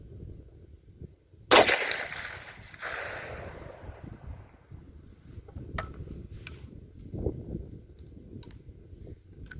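A single sharp report from a CVA single-shot rifle in .450 Bushmaster, fired at 100 yards, cracks out loud and decays quickly, followed by quieter outdoor ambience with faint clicks and insect-like chirps.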